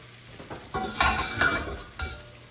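A roux for a chicken pot pie sauce being stirred in a pot, with a steady soft sizzle and a few close scraping strokes of the spoon, no talking.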